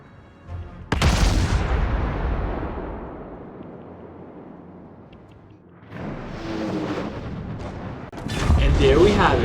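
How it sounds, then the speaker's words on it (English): Naval gunfire booms in World of Warships as an enemy battleship is destroyed: a heavy blast with a long rumbling decay, then another loud wave of explosions toward the end. "We've destroyed an enemy battleship"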